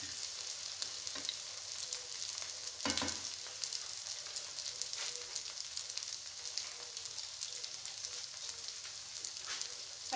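Flour-coated potato fritters fry in hot oil with a constant soft, crackly sizzle, heard close and alone. A few brief louder spatters or stirring bumps break through along the way.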